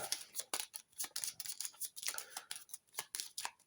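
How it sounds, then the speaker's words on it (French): A deck of automa cards for the fan-made board game Le Château Blanc is shuffled close up, giving a rapid, rhythmic run of crisp card flutters and slaps. "Ici, on a le deck automa. Donc là, on peut juste le mélanger."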